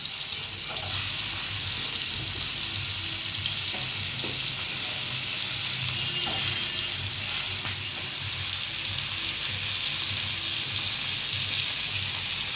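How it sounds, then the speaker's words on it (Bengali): Sardines sizzle and spit steadily in smoking-hot oil for a Bengali fish curry, a constant close crackle with an occasional soft clink of a utensil stirring, no voices. "তেলটা থেকে ধোয়া বেরোনোর সাথে সাথে মাছগুলোকে একে একে ছেড়ে দিতে হবে।"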